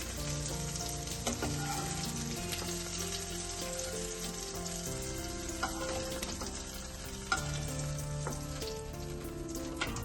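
Vegetables sizzle and crackle steadily in hot oil, with occasional clinks and scrapes of stirring in the pan while okra is fried for a curd curry.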